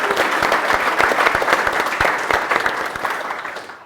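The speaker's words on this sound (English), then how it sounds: "and for Vid, please, one round of applause" An audience at a panel event on adopting AI in enterprises breaks into steady, loud applause, dense clapping that holds throughout and starts to fade near the end.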